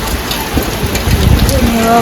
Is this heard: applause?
no